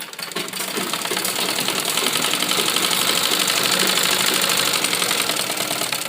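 A sewing machine runs steadily while stitching an embroidered blouse, with a continuous, loud, even mechanical whir and rapid needle clatter lasting the whole stretch, and no talking.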